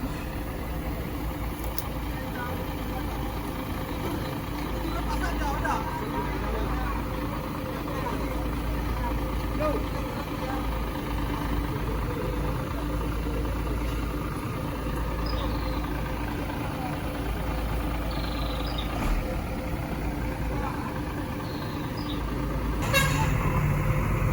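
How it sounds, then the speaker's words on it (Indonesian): Tanker truck being towed off the road during a roadside recovery, with repeated horn toots sounding over a steady low rumble of heavy engines and passing traffic, voices occasionally audible beneath. "ini truk tangkinya akan ditarik dan dipinggirkan ya bosku"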